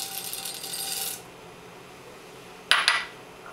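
Black peppercorns and coriander seeds drop into a container of marinade for red bell peppers, a quick pair of bright, close rattling clinks after a stretch of quiet kitchen hiss.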